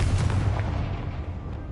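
A Confringo spell explodes in the video game Hogwarts Legacy, a loud, deep booming blast that fills the short moment and slowly fades.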